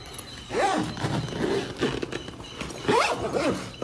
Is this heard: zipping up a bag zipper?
yes